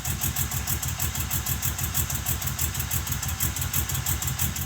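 A GMC Typhoon engine that sat unused for 21 years runs at a steady idle, with a close, even rhythmic chugging pulse and a continuous whine over it.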